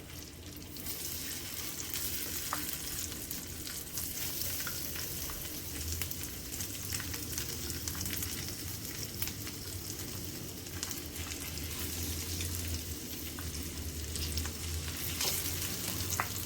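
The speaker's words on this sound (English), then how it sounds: "So in goes the shrimp." Shrimp fry in hot canola oil in a pan, giving a steady, even sizzle that runs unbroken for a long stretch. Occasional pops and stirring sounds rise above it, and no one speaks.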